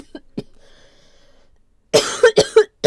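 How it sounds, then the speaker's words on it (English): Faint throat sounds at first, then a burst of three or four loud, close coughs in quick succession near the end. "Again, please excuse my cough."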